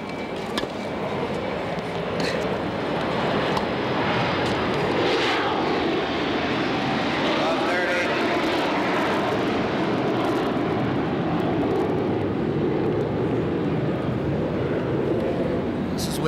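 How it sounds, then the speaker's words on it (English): Airplane passing over an outdoor tennis stadium during a 1982 US Open final, a steady broad engine roar that fills the whole stretch, with commentary spoken over it. "Plane flew over the first one of the day."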